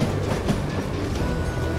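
A moving train in the western video game Call of Juarez: Gunslinger gives a continuous, close, loud rumble with rhythmic wheel clatter and no speech.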